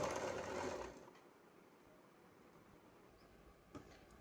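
A sewing machine stitches the front of a girl's co-ord set with a neck, sleeveless top and palazzo. It runs steadily and loud in a brief burst for about a second, then drops to faint background noise with a couple of small clicks.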